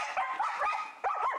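Dogs in an animal shelter bark sharply and yip in a quick, overlapping flurry as they scuffle, loud and close, with no one talking.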